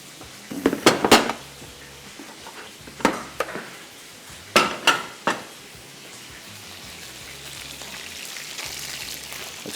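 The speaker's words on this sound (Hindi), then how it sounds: "ये अंडे एक एक लेके हम इसमें फ्राई करना शुरू कर देते हैं।" Eggs frying one at a time in a pan, with sharp clinks and clatters of a utensil against the pan in quick bursts, then a steady soft sizzle rising toward the end.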